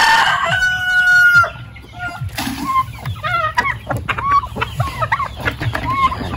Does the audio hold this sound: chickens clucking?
yes